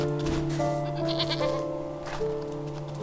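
A goat in the video game Wytchwood bleats in a wavering, sustained cry over a steady backdrop of game music.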